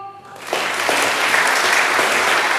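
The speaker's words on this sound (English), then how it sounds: "Clap your hands, O people." Congregation at a children's spring church program bursts into loud, dense applause that swells and holds steady.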